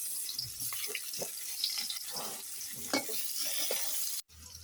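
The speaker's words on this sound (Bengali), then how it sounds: "পেঁয়াজটা ভাজা ভাজা হয়ে গেছে" Onion and green chili fry in a pan with a steady broadband sizzle. Scraping stirs and clinks break in now and then, and a brief dropout comes near the end.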